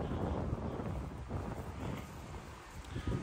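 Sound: wind blowing on a street

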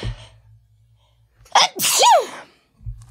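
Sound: sneeze

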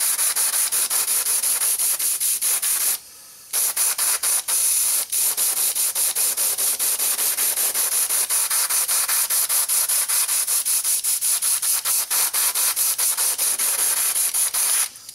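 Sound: airbrush spraying Tamiya acrylic paint on model part

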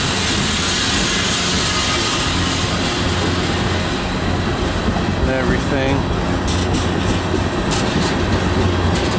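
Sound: cargo train clacking on railroad track

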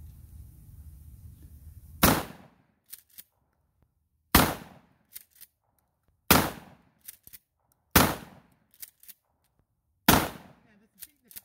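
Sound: gunshots fired at a dead tree

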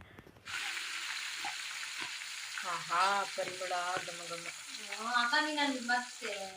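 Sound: butter cooking into ghee with spices

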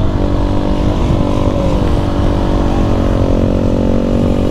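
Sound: supermoto motorcycle engine during a wheelie

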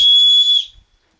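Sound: whistle blown, built into a hunting pack's shoulder strap buckle

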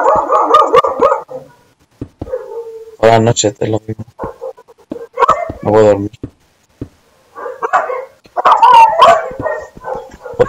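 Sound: dogs barking

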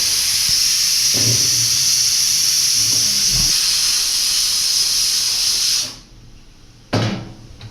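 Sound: lentils (dal) boiling and steaming

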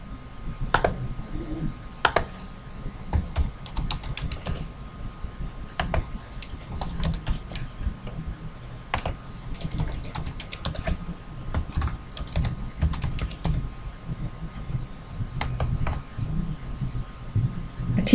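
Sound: typing on computer keyboard filling in details

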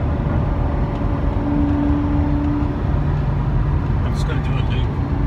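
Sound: riding in a Lamborghini Murcielago on the Las Vegas Strip

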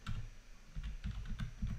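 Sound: typing on a computer keyboard

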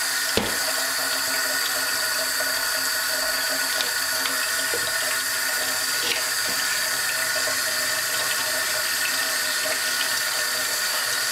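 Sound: water running from tap into container for plantains

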